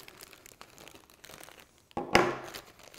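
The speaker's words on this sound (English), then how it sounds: "You turn the bag inside out, and your shavings are there." Soft rustling of a plastic bag holding a magnet and metal shavings, then a louder crinkling burst as the bag is turned inside out, close by with no talking.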